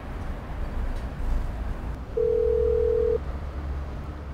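A telephone tone sounds after a call is hung up: a single steady electronic beep lasting about a second, clear over faint line hiss.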